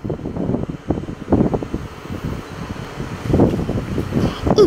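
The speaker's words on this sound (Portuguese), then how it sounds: "E tá ventando bastante" Wind blowing and buffeting against the microphone in uneven gusts, with low rumbling bursts rising and falling throughout.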